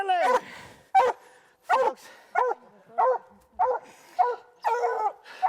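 A hunting dog barks repeatedly at a treed bobcat in Montana, about nine loud, close, evenly spaced barks, some with a whining yip edge.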